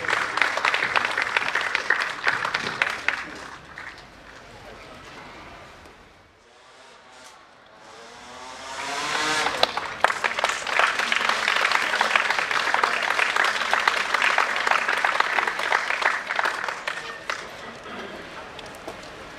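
Audience applause at an outdoor band concert in Piantoni, a dense wash of clapping that dips and fades midway, then swells back to full strength and carries on steadily to the end.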